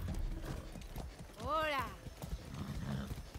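A horse in the video game Far Cry 6 moves with a steady clip-clop of hooves and gives a brief rising-and-falling whinny midway, with someone talking throughout.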